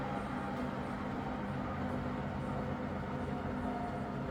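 A rebuilt Bridgeport milling machine's variable speed head runs at about 1100 RPM, giving a steady, even mechanical hum with a low drone that holds constant throughout.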